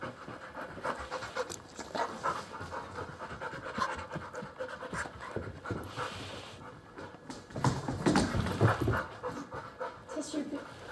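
A small, excited puppy pants rapidly and steadily close by, with brief whimpers and scratching, while someone talks to it over the panting.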